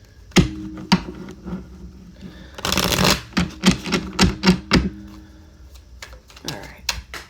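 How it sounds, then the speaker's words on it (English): Rapid riffling of tarot cards in repeated bursts, crisp papery flutters and taps, with a short louder shuffle in the middle; close and distinct, no talking. "One more shuffle."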